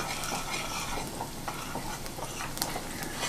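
Plant-based burger patties frying in a pan, a dense steady sizzle with crackling pops, close and continuous.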